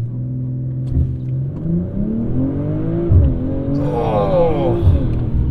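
A 2023 BMW M340i launches hard from a standstill, its engine close and loud, climbing steadily in pitch with brief dips at gear changes, while a person lets out short exclamations.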